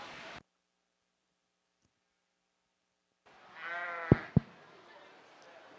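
A sheep gives one clear, close bleat at a Kentucky State Fair junior market lamb show, followed by two sharp knocks against a quiet background.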